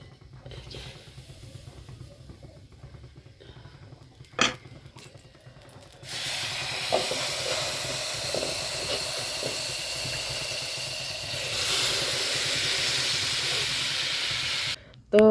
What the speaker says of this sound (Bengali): এই যে দেখো গ্যাসে কি সুন্দর করে আমি পিঠা ভাজি